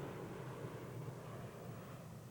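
A P-38 Lightning fighter plane's engines drone in a steady, faint aircraft hum, heard alone with no talking.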